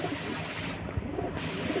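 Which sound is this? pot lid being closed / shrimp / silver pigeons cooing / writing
silver pigeons cooing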